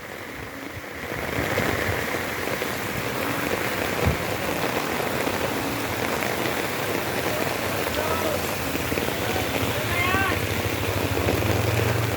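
Steady heavy rain pours down on surfaces nearby, a constant dense patter with faint voices in the background, during flooding.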